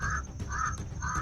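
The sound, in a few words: crow cawing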